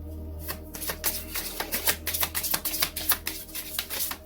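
Angels Answers oracle cards being shuffled up close, a rapid run of crisp, papery riffles and flicks in uneven bursts, with no talking.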